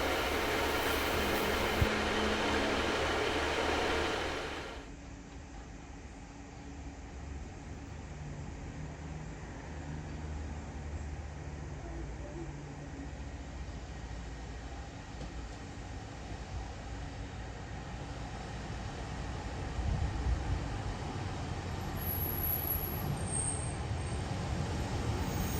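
A passenger train on the Maritime Line between Falmouth and Truro in Cornwall rumbles nearby, a steady low mechanical drone that briefly sounds louder at the start, settles, then rises again toward the end.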